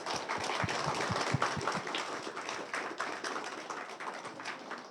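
Audience at a motivational talk on positive thinking and happiness bursts into applause, a broad, steady wash of clapping with a few sharper close claps early on.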